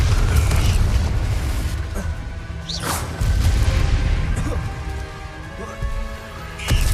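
Booming blasts from the Confringo fire spell in Hogwarts Legacy erupt repeatedly, each thud followed by whooshing, crashing bursts and rumbling debris in a busy fight scene.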